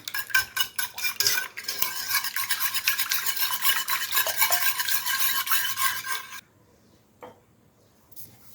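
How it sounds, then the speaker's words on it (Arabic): Eggs with a pinch of salt are beaten briskly in a bowl, a fast rhythmic clatter of utensil against the sides that runs for about six seconds, then stops, leaving near silence with a faint tap. "غادي نحاول نخلط البيض مزيان"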